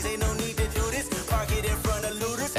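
A dense mashup of two tracks, heavy rhythmic bass hits and layered synth melody playing steadily and loud throughout, with no talking over it.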